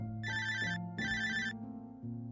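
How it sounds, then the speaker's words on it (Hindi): A telephone rings in two clear, close electronic bursts over a soft, sustained musical backdrop, with a brief gap between rings and no voices. "तभी फोन की घंटी बजी"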